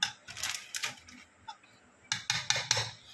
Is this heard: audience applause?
no